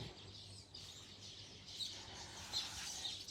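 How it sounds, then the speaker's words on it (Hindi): A colourful small bird chirps in short, high, faint tweets, a few scattered calls against quiet background hum with no talking. "मैंने लाइफ में ऐसी चिड़िया नहीं देखी, रंग बिरंगी,"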